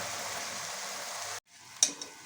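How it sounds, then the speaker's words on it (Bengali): Onion, chilli, garlic and ginger paste frying in oil, a steady sizzle that cuts out abruptly partway, followed by a quieter hiss and a couple of sharp clinks. "ওই তেলেই পেঁয়াজ বাটা পেঁয়াজ আর লঙ্কা বাটাটা দিয়ে নিচ্ছি"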